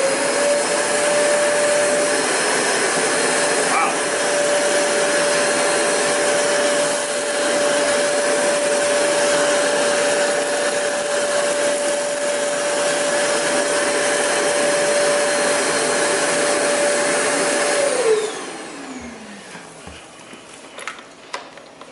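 A Zero G floating vacuum cleaner runs steadily on a bare floor, a loud constant motor whine with a fixed tone for about eighteen seconds, then it cuts off and spins down, leaving faint clicks and handling noises.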